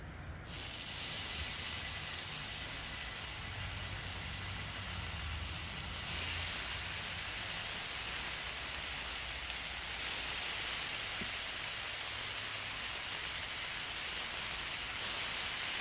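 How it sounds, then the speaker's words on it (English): Bacon sizzles on a Blackstone griddle with a loud, continuous hiss that holds steady throughout and stays close, with no voices over it. "So let me get the bacon on."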